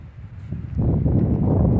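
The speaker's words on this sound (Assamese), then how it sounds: "আৰু ইমানেই বতাহ মাৰিছে ইয়াত" Wind buffets the microphone in a low rumbling roar that swells and stays strong after the first moment, with faint rustling behind it, near a waterfall in Shillong.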